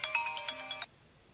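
Mobile phone ringtone chiming in a short, bright, tinkling melodic phrase, faint and brief, cutting off abruptly into quiet room tone.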